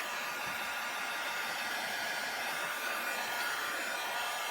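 Steady, uninterrupted rushing air from a blow dryer running close by, with no other sounds.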